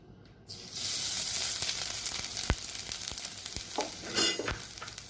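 Ginger garlic paste dropped into hot ghee in a pan, an abrupt loud sizzle that continues as a steady close crackling hiss with faint stirring taps.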